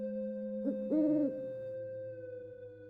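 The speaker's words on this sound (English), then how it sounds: "Maybe it's all just a bunch of owls." An owl hoots in a short two-part call, a brief note followed by a longer, louder hoot, set against a steady low hum with nobody talking.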